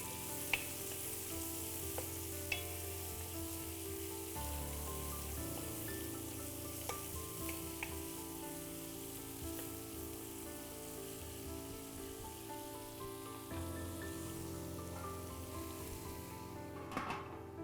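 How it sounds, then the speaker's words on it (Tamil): Onions sautéing on medium flame in a pan for Kongu-style chicken biryani, a continuous soft sizzle with occasional light ticks and a hum underneath, fairly quiet and steady, no voices. "இப்போ வெங்காயம் சீக்கிரம் வதங்குறதுக்காக மூடி வச்சுருக்கேன்"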